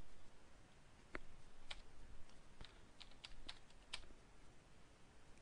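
Quiet, irregular clicks of typing on a computer keyboard while entering Perl code, a few sharper keystrokes standing out against faint room noise.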